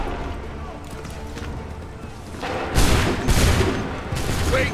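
A volley of musket fire on command in Assassin's Creed III Remastered, several loud booming shots in quick succession following quieter battlefield bustle, with shouted voices around it.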